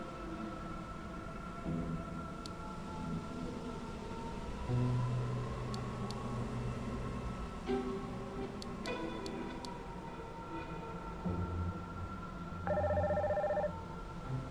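A phone rings in the video game Nier Reincarnation, a steady electronic tone sustained over quiet ambient game music, with no voices.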